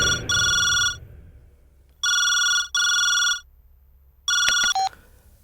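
A telephone rings as someone places a call: paired electronic ring bursts repeat at steady intervals with silent gaps, ending in a quick clicking and a short beep.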